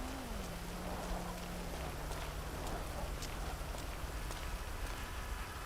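Steady rain falling in GTA 5 Enhanced, a continuous broadband hiss with scattered drop ticks, held at an even level throughout, with no voices.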